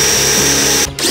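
A power drill bores into the outer body of a sliding gate motor during a DIY remote gate installation, a loud close whine that holds steady and then drops out briefly near the end.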